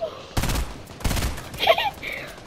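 Gunfire in the Fortnite video game, two short broadband bursts of shots close together near the start, followed by brief higher-pitched game effects, with no speech over them.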